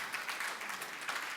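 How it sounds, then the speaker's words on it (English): A small audience at an oil and gas investment talk claps, giving a brief spell of soft, scattered applause from somewhere in the room. "I see Quincy's clapping."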